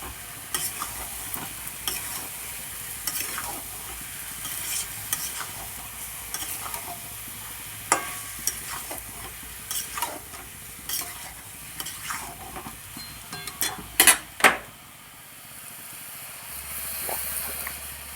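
Boiled soybean chunks fry in a pan without prior browning, a constant soft sizzle broken by repeated scraping stirs and sharp spatula clicks near the end.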